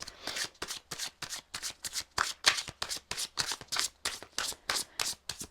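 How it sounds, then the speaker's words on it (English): Tarot cards shuffled and drawn by hand: a quick, steady run of crisp riffling bursts and papery slaps, close and clear with no talking. "I'm just going to pull 2 more cards and then we'll get some oracle."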